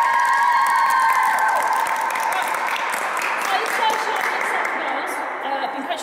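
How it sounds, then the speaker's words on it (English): Young girls' football team gives a burst of clapping and cheering, a dense, fairly loud patter of many small hands that carries on steadily before easing slightly toward the end. "Right, girls, can we do a bigger applause for both of them?"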